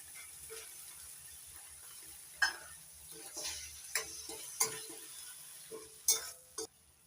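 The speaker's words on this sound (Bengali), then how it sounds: "এবার দিয়ে দিচ্ছি টমেটো বাটা" Tomato paste going into a hot pan of spiced oil with chili, cumin and coriander, a quiet low sizzle broken by several sharp spoon taps and scrapes against the pan.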